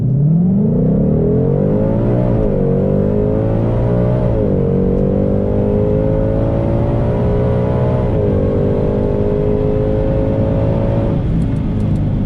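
A 2022 Ford Shelby GT500 launches down the drag strip at Lebanon Valley Dragway with launch control at 1700 RPM and tyres at 26 psi, a loud engine roar climbing through gear changes as it pulls away.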